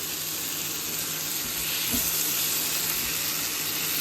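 Steady close sizzle of bell pepper curry frying in a pan, with a brief soft scrape of stirring partway through and no talk.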